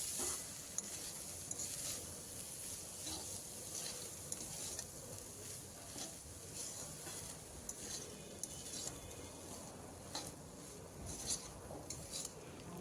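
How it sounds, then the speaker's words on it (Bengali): Chana dal frying with spices in a pan for squash dal, a steady low sizzle under repeated stirring scrapes and faint utensil clinks, continuous and moderately quiet with no talking. "ডালগুলো আমি 3 মিনিটের মতো সময় ধরে মশলার সঙ্গে কষিয়ে নেব"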